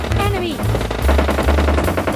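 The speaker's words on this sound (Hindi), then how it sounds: "बे भाई इतनी गोलियां कहाँ चलने लग गई?" Rapid automatic gunfire in the video game PUBG, a steady stream of close shots running through the whole moment, with a voice talking over it.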